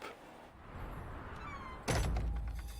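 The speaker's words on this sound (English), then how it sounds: "And the gate just slammed shut." A gate slams shut in the horror game Draugen: a sudden heavy metallic bang with a ringing tail cuts through a quiet ambient background near the end, loud and close, with no talking.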